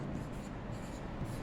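Steady scratchy writing on a board during a grade 6 math lesson, a continuous close rubbing stroke with no pauses and no talking.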